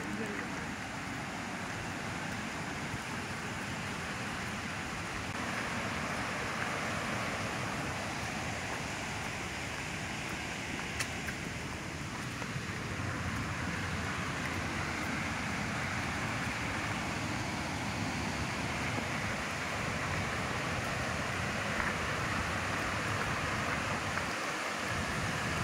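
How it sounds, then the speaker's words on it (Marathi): Water flows gently over a stream weir at a riverside fishing spot, making a steady, continuous broadband rush that holds at an even level from start to finish. "ऐकू पण आपल्या येत असत पाण्याचा हळूहळू असा आवाज येता"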